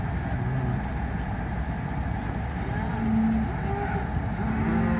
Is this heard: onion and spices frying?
no